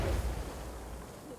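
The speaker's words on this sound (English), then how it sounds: "Watch out! I'm throwing a grenade!" A grenade blast in the shooter game Insurgency: Sandstorm gives a heavy, low boom at the start that rolls off into a long rumbling tail, with no speech over it.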